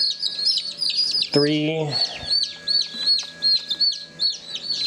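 Newly hatched baby chicks in an incubator give a rapid run of high, repeated peeps, with a lower clucking call breaking in near the start and a voice briefly counting.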